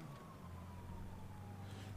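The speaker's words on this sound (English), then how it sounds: "Don't know if I really want to go towards the siren." A siren in the GTA 5 video game wails steadily at a distance, a long drawn tone gliding slowly downward over a low engine rumble, with no talk over it.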